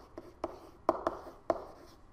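Someone handwrites a molar mass value in chemistry notes, with a handful of short, close, distinct pen taps and strokes in an irregular rhythm on a quiet background.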